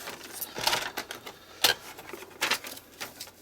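Paper is cut and trimmed down close up, with irregular crisp snips and rustling bursts and one sharper crunch midway, fairly quiet and without speech.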